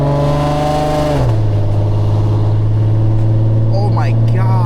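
A 100k-mile Audi with resonators removed revs loudly, its raspy exhaust dropping from a high rev to a steady lower drone up close, with brief talk over it near the end.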